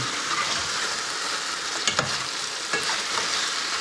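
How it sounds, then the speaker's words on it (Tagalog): Bringhe, a Filipino rice and chicken dish, is stirred in a frying pan: a constant close sizzle with a few soft scraping strokes of the spoon, no voices. "Tapos haluin na naman to, sangkot siya."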